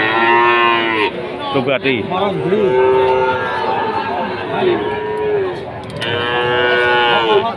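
Cattle at a livestock market moo in long, drawn-out bellows, several overlapping calls close by and loud, with faint crowd chatter and a brief voice in the background.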